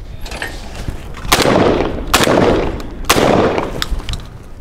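Three loud, close shotgun blasts from a Winchester SX4 shooting clay targets on crossing throws, each sharp report followed by a rolling outdoor echo, spaced about a second apart.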